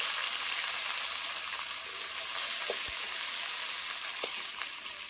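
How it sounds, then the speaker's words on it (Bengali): Garlic frying in hot mustard oil with black cumin seeds, a steady close sizzle and hiss that runs throughout, with a couple of faint stirring clicks. "কালো জিরেটা একটু ভাজা ভাজা হয়ে গেছে, এর মধ্যে দিয়ে দেবো রসুন।"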